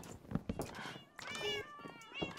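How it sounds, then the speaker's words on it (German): Cats meow in Minecraft, several short game cat cries overlapping with each other, while players talk over the sounds in the middle and toward the end. "Wo die Armee von Katzen rennen einfach zu den Betten."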